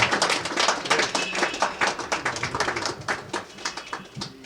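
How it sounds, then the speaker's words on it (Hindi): An audience claps to welcome a speaker onto a stage, uneven clapping from a modest crowd with distinct individual claps, fairly close and steady, thinning slightly toward the end. "आपकी जोरदार ताली के साथ में मैं उनको इनवाइट करना चाहूंगा।"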